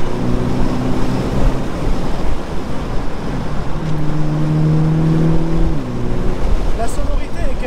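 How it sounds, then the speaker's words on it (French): The four-cylinder engine of a 2018 Mini Cooper S Cabriolet hums while driving beneath steady wind and road rush, with a clearer rising engine tone swelling for a couple of seconds midway before easing off. "La sonorité est quand même très agréable sur ce 4 cylindres"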